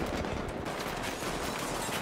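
Dense, continuous gunfire in a Battlefield-style online shooter, a loud crackling fusillade of many shots with no pauses, heard with no talk.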